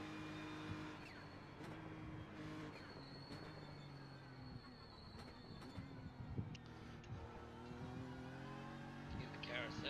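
BMW M race car engine droning steadily through a lap in iRacing, a continuous loud whine with shifting pitch, faint tyre squeal in places, and a person talking over it throughout.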